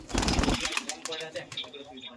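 A female Giribaz pigeon is released from the hand at a loft, its wings flapping in a brief burst of rapid, close beats that ease off, with people talking around it.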